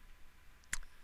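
A single crisp computer mouse click sounds once, short and soft, against faint room hiss.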